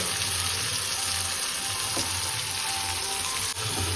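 Something fries in a pan toward golden, giving a dense, even hiss of hot oil that runs unbroken from start to finish, close by with no talking.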